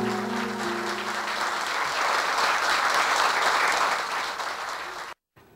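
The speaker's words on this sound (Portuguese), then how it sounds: "Aplausos. Ele merece." Applause for the late actor Oswaldo Louzada at a tribute: a dense, steady wash of many hands clapping, close and full, holding for about five seconds before cutting off abruptly.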